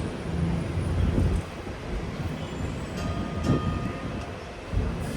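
A Hong Kong tram rolls along its rails with a steady rumble, wheels clunking over joints and faint squeals, heard from on board without talk.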